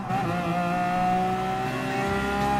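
A Lamborghini Aventador engine in Gran Turismo Sport holds a steady, loud, high rev, with harmonic tones rising slightly over a couple of seconds.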